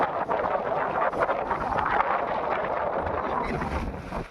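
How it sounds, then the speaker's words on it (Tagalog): Strong wind blowing at a seashore in Zamboanga, a continuous loud rush buffeting the microphone with gusts and surf-like roar, no voices. "Oh, lakas ng hangin."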